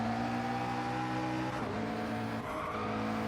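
Race car engines droning steadily in Gran Turismo at Dragon Trail Seaside, a Lamborghini among them, with a sustained multi-toned whine that shifts pitch around midway, loud and continuous without talk.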